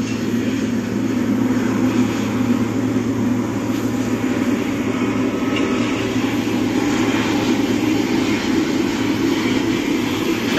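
A Garuda passenger jet, registration PK-GIK, carrying the first group of Hajj pilgrims back from Madinah arrives at an Aceh airport, its engines giving a steady, loud low roar and whine that holds unchanged throughout.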